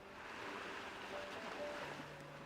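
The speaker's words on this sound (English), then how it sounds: "Why do I hear waves in the background?" Ocean waves wash faintly in the background of a phone call, a soft, steady surf-like hiss with no talk over it.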